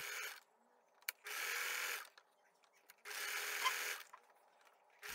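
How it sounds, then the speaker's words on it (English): Sewing machine top stitching lace on panties with a wide zigzag, two sustained close whirring runs of the needle separated by short pauses with small clicks. "Fold the picot edge towards the wrong side of the panties and top stitch on top of the lace with a wider zigzag"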